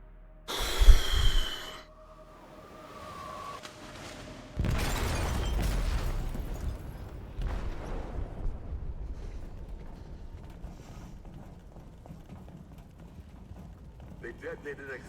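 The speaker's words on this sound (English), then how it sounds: "They detonated an explosive in the hold." In the video game Detroit: Become Human, an explosive detonates in a ship's hold, a heavy booming blast that rolls into a long rumbling decay, preceded by an earlier sharp burst and breathy sounds.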